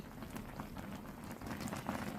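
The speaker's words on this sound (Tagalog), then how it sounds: "hintayin natin kumulo siya ng kumulo hanggang lumambot yung ating tok" Korean tteokpokki rice cakes boiling in a pot, giving a steady low bubbling and light popping patter that holds close and even throughout, with no talk.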